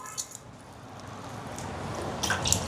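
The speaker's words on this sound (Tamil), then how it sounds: "பாருங்க இந்த மாதிரி புழிஞ்சு இந்த பனங்களியை எடுக்கணும்." Bare hands squeeze and press ripe palmyra fruit pulp for Jaffna paniyaram, giving close, steady wet squishing and soft dripping with a few louder squelches, and no talking.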